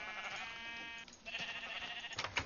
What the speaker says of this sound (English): You have a little baby sheep in your pen